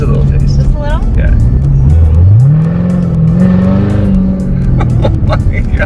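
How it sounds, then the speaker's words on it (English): Car fitted with a new aftermarket exhaust revs loudly nearby, the engine note dipping and then climbing in a strong sweeping rise, while people chatter over it. "Christina just put an insane exhaust on this car."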